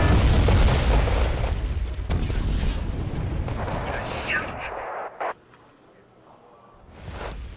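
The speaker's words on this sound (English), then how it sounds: "let's see if we can get the artillery to fire." Artillery fires in the Wargame: Red Dragon battle game, heavy rumbling booms and blasts rolling loud at first and fading, followed by a few sharper distant shots and a later low thud.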